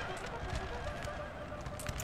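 Massed cavalry horses charging in a Napoleonic Total War 3 multiplayer battle: faint, distant hoofbeats and whinnies under a dense wash of battlefield noise, with a voice talking over it.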